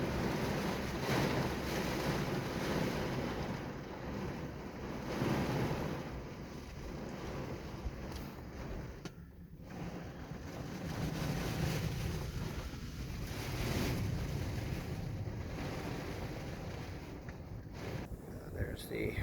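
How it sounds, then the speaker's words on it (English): Heavy rain and gusting wind from Storm Ophelia roar steadily as broadband noise, with wind buffeting the microphone throughout and no clear voices. "quite a bit of rain and wind"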